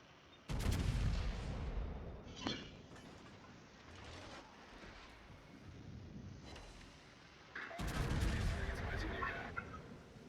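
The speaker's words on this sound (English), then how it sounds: "And Joe is coming under some HE fire." High-explosive shell fire landing around a Sovetsky Soyuz battleship in a naval video game, heavy booming impacts in two loud bursts with a quieter rumbling stretch between.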